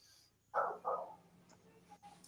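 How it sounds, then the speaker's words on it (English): A dog gives two short barks at moderate distance, a quick double burst followed by quieter ambient noise, apparently heard as part of a war film. "So that's probably why she barking."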